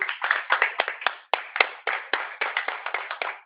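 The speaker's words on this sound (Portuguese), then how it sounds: "dê uma salva de palmas para o nosso Deus" A church congregation claps a round of applause in praise. The claps are steady and fairly quick and form a dense, even patter that keeps going without a break, with no talk over it.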